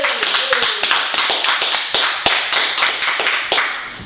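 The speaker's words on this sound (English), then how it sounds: "let's give her a round of applause" Audience clapping for an Irish dancer at a live beach event in Long Beach, a steady rhythmic patter of hands with sharp individual claps standing out, close and loud, with a voice briefly heard at the start.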